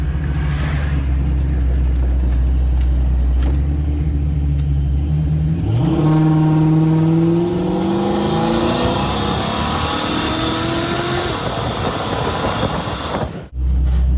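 A supercharged automatic Ford Foxbody car pulls at wide open throttle, engine droning low before revving hard with a rising whine through the gears, loud and close, then cutting off sharply near the end.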